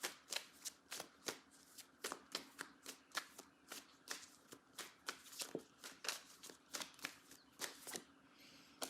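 Tarot cards being shuffled by hand, a steady run of crisp riffling flicks and slaps close to the mic, repeating roughly every half second with no talking.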